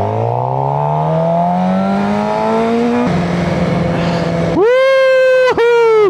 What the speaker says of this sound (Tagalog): Ganda ng truck niya!